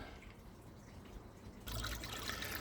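Water from a koi pond's filter system trickles and splashes steadily back into the pond, a soft continuous flow that grows fuller partway through.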